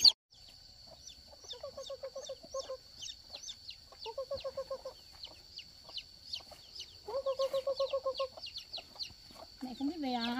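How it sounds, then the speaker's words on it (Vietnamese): Black chickens on a farm cluck repeatedly in bursts, close and clear, over a steady high-pitched chirring, with a brief voice at the end. "Gà đen yêu lắm."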